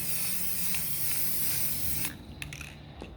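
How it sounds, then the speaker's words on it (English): Rust-Oleum spray paint hisses onto an old wooden cabinet in a steady continuous spray, then stops abruptly, leaving a few short bursts and faint clicks. "now I'm going to begin to spray"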